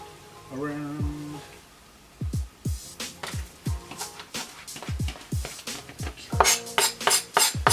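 Raw beef goes into a pot of simmering, saucy beef bowl sauce, heard as a close run of soft wet plops and utensil clinks that build in pace, with some earlier clatter of cookware.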